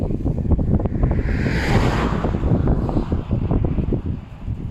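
Wind blows hard through a forest, a loud, steady rushing roar with gusts that buffet the microphone, with no voices.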